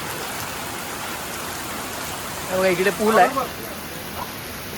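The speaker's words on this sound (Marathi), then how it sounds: "खतरनाक खतरनाक पाऊस एकदम" Heavy monsoon rain pours in a steady, dense hiss throughout, with a voice speaking briefly near the middle.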